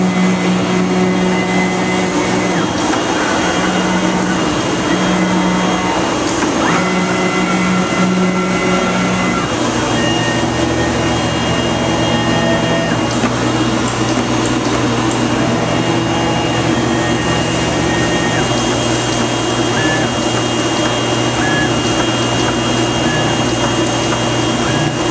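An Autometrix Advantage plotter/cutter from 2013 numbering and cutting out corner patches for a Sunfish sail, giving a steady, loud mechanical whir with shifting motor tones and intermittent higher pitched servo whines throughout.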